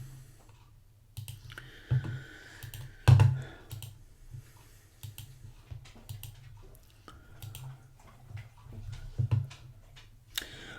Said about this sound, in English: this is similar to just spreading the cards out